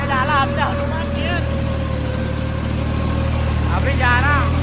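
A farm tractor runs steadily at idle, its low engine drone continuous throughout with people talking over it.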